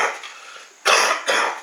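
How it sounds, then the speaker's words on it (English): A man coughs twice, with two sharp, loud, close bursts about half a second apart. They follow a quieter breathy rasp, and no one talks. "As I cough."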